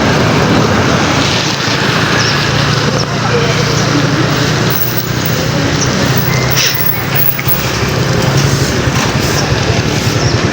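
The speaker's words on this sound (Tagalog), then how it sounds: "Grabe lakas ng alon." Strong sea waves and rough water during a boat crossing near Matnog, a steady loud wash of surf and wind-blown noise with engine rumble underneath, continuous throughout.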